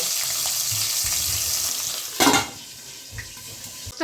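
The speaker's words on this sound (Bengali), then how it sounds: "মাছটা এক পাশে ভাজা হয়ে গেলে আমি আবার উল্টিয়ে অন্য পাশটা ভেজে দেব" Koi fish frying in oil in a covered pan, a soft steady sizzle broken by a sharp loud spitting burst midway and a few smaller pops and clinks afterward.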